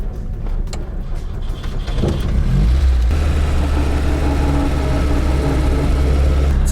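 Lada Zhiguli car engine droning steadily while driving in traffic, a loud low rumble that rises and thickens after a brief shift, with the car's rear suspension sitting on its bump stops.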